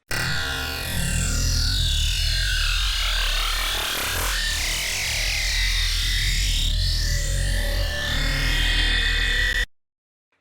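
A thick, distorted granular bass texture with sweeping, swirling tones rising and falling, played alone and loud, then cutting to silence.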